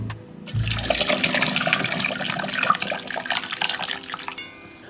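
Separated milk curds and whey poured into a sieve, a continuous splashing, gurgling pour lasting several seconds that starts abruptly and tapers off at the end, close and alone without talk.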